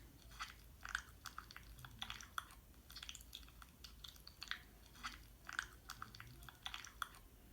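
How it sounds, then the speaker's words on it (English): Crunchy, wet chewing sounds repeat in an uneven rhythm, close and fairly quiet, with short crackly bites over a soft background. "I think I'll throw in some more chewing"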